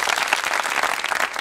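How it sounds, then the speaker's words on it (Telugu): Dense, steady applause from a seated audience at a stage ceremony fills the whole short moment at an even, loud level. "చప్పట్లు, చప్పట్లు."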